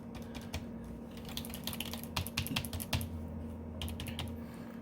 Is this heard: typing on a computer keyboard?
yes